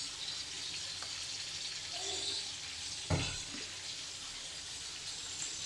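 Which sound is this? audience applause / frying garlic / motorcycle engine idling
frying garlic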